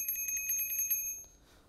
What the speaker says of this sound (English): This is my second bell. You can spam this.